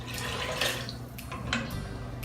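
Beef broth pours into an Instant Pot pressure cooker, a close, continuous splashing trickle with a couple of brief louder gushes.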